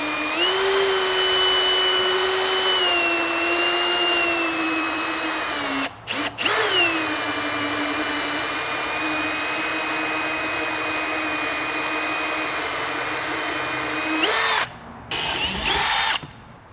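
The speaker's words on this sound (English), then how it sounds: "and then you're gonna go ahead and drill down." A power drill with a step bit whines loud and steady at a high pitch while drilling a cable pass-through hole in a Sprinter van, running almost continuously with two brief stops before grinding on.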